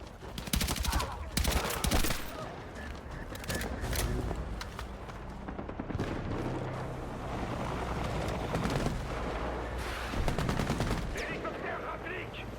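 Rapid bursts of video game gunfire crackle almost nonstop, with overlapping automatic fire and scattered booms, loud and busy throughout.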